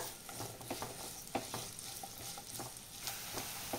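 Onions fry in hot oil for a Telugu home-style curry, giving a steady close sizzle broken by light scraping and clinking as they are stirred; no one speaks.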